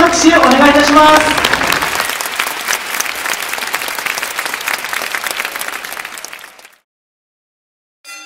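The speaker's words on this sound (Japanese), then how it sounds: "今一度大きな拍手をお願いいたします。" A stadium crowd at a fan appreciation event applauds as players leave, a loud burst of clapping under an announcer's voice that tapers off and then stops into silence.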